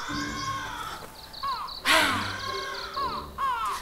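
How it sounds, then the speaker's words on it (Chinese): Crows in a rice field give a string of harsh, loud caws, a few calls spaced apart with one louder burst near the middle, heard alone without speech. "你看，遐有少济鸟仔蹲咧偷食稻啊！"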